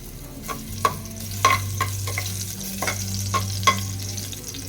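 Ginger pieces frying in hot oil in a pan, a steady close sizzle with several sharp crackles and pops and a couple of stirring scrapes, no talking.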